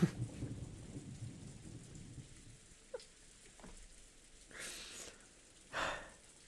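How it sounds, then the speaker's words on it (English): Crash of thunder in the visual novel game Umineko When They Cry: rain patters softly at first, then a couple of sharp cracks are followed by two loud, broad thunder bursts near the end. "There's a huge crash of thunder."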